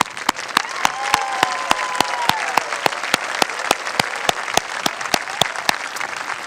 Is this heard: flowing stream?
no